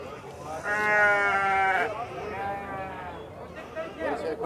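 Sheep and goats bleating at a livestock fair in Barra de Santa Rosa, Paraíba, with a loud close bleat followed by fainter cries, over a background murmur of the market crowd.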